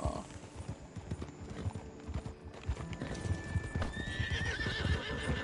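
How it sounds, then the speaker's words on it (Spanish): Horse being washed and cleaned, hooves clip-clopping in an irregular, close-up stamping rhythm, followed by a clear high neigh near the end, with faint background noise. "Acá estoy limpiando el caballo, que también hay que bañarlo."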